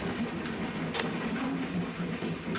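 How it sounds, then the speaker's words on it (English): Train backing slowly into Two Harbors, giving a steady low rumble with faint rail noise and a couple of brief metallic clanks, fairly close and continuous. "the train is actually backing into Two Harbors"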